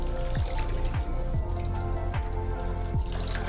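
Tap water runs steadily into a sink during hospital hand rinsing, forming a continuous splashing stream broken by repeated gurgling drops at a regular pace.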